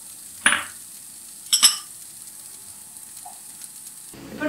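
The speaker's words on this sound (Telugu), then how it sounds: "ఇప్పుడు మనం ఆల్రెడీ పెన్నం వేడెక్కిందండి. నేను నూనె వేస్తున్నాను." Cooking oil is poured into an already hot pan, giving two brief hissing sizzle bursts close by, followed by near quiet and a faint clink.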